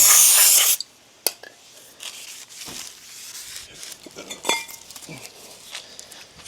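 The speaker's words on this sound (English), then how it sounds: "So I'm going to spray this down with brake cleaner." A loud burst of brake cleaner aerosol spray hissing onto truck brakes for under a second, then quiet shop sounds with light clinks and rubbing.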